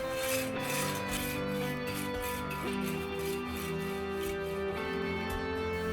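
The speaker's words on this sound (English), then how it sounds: "Now I'm going to cut a couple small squares out of some of the scrap plexiglass." Scrap plexiglass being cut by hand, a steady rasping, rubbing stroke sound that carries on close and continuous for the whole stretch with no talking.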